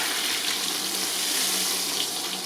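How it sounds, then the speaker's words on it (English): Cooking oil poured over a heavy pulled pork roast in a pan, giving a steady close hiss and splash, like a running stream with a faint sizzle, continuous throughout. "I'm going to pour that oil right on top of it"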